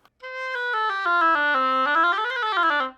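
A single sustained oboe tone, reedy and bright, sliding down through a few pitches then bending upward before fading.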